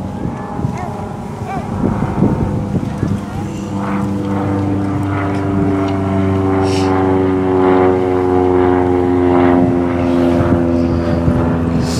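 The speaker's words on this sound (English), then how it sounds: "Thank you for that flyover from the local Civil Air Patrol." A Civil Air Patrol propeller plane flies over a Veterans Day observance in Los Alamos, its droning engine tone rising and holding loud overhead with wind buffeting the microphone.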